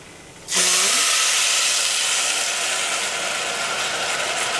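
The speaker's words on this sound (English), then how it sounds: "It gives off a little sizzle when you first add the water" Water poured into a hot pan of bulgur, noodles and onion for pilaf sets off a sudden loud hiss and sizzle that holds steady, close and continuous, after a brief quiet start.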